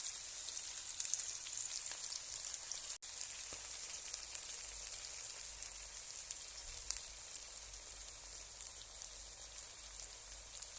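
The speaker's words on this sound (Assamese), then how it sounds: "আদা নহৰু কেঁচা গোন্ধটো যোৱালৈকে মই অকণমান দেৰি ভাজি থাকিম।" Ginger-garlic paste fries in hot oil with onions and green chillies, making a faint, even, crackling sizzle that runs steadily throughout, with one brief dropout near the start.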